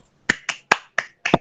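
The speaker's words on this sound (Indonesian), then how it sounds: "Ini Bapak lagi tepuk tangan." Five sharp, close, separate hand claps land at an uneven, slightly quickening pace within about a second, with nothing else audible around them.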